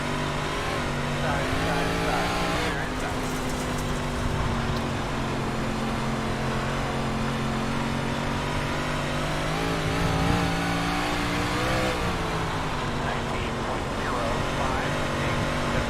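Big Block Modified race cars roar around the dirt oval at Knoxville Raceway in the iRacing simulator, a continuous dense engine drone with rising and falling revs and several cars running close together.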